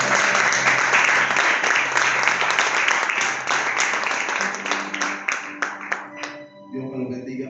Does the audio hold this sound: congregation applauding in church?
yes